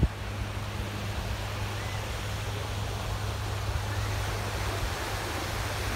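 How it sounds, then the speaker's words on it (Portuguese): Surf at Frischmann's Beach, a steady broadband wash of breaking waves with an even rolling roar, fairly loud and constant, with no voices. "Vista aqui da praia da Frischmann's Beach,"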